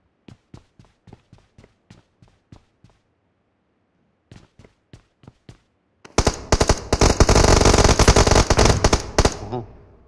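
Gunfire in the PUBG battle royale game: a string of single evenly spaced shots, a pause, a few more shots, then a loud sustained burst of rapid automatic fire, close and dominant.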